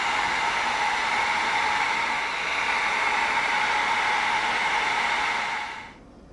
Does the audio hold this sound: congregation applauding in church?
no